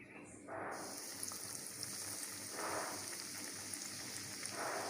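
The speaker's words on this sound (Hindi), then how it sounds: "अब इसको मीडियम फ्लेम पे हम फ्राई करेंगे" Chicken legs fry in oil over a medium flame. The oil gives a steady crackling sizzle like rain, surging at moments and staying at a moderate, close level throughout.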